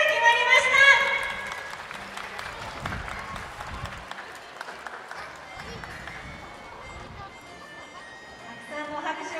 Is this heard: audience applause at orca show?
yes